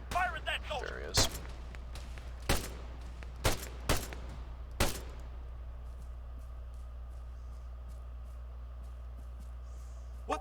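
Gunfire in the military shooter game Arma 3 cracks out in five loud separate shots spaced about a second or so apart, sharp and close, before a quieter stretch with faint distant pops.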